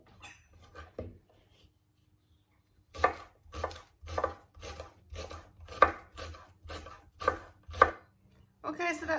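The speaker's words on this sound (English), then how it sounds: "So I'm going to get this washed, chopped up into pieces around that size." A knife chops rhubarb stalks into pieces on a cutting board, a close run of evenly spaced crisp thuds after a quiet start, each cut sharp and distinct with no talking.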